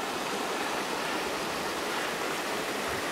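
A river rushes steadily beside a campsite on the Necklace Valley Trail, a close, continuous broadband wash of flowing water with no voices.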